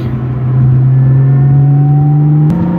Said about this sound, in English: Blipping the throttle is a little different too. I feel like this engine revs a little faster than mine does, so the blips are pretty quick.